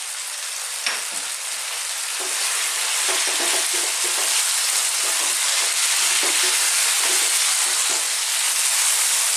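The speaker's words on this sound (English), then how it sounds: "on a fairly lively heat, I'm going to sort of stir fry that for about 3 to 4 minutes" Chicken thighs seasoned with black pepper stir-frying in a pan over lively heat, giving a loud, continuous sizzle with intermittent scraping and tossing sounds from stirring, no voices present.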